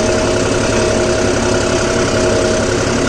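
A John Deere 5405 CRDI Power Tech tractor engine runs steadily while pulling a cultivator in medium first gear, a loud, close, continuous diesel drone with no voices.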